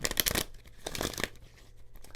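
Tarot cards being shuffled by hand, giving a dry riffling and rustling burst at the start, then softer scattered paper flicks that fade into quiet handling near the microphone.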